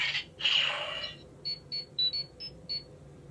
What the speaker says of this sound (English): And you get the communicator beep.